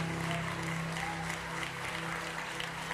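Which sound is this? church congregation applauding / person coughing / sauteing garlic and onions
church congregation applauding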